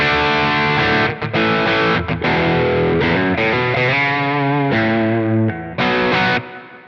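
A PRS SE NF3 electric guitar on its bridge pickup with gain plays loud, distorted chords and notes alone. It has short pauses between phrases and sustained ringing.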